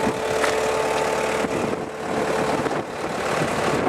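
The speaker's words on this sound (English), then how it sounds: "has a 97 horsepower diesel engine in it" A 2005 Takeuchi TL150 skid steer loader with a 97-horsepower diesel engine runs close by, a steady, unbroken mechanical drone that stays at an even loudness throughout.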